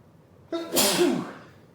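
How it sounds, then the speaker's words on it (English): A single sharp sneeze bursts out close to the microphone after a short inhaled build-up, loud and alone against a quiet room. "I need to sneeze"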